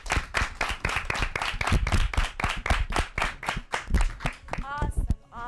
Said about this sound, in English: I thank you for being a wonderful studio audience. Give yourself a round of applause.